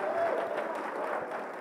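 A church congregation applauds in a continuous crowd wash. The sound is fairly loud and close, with a murmur of voices mixed in throughout.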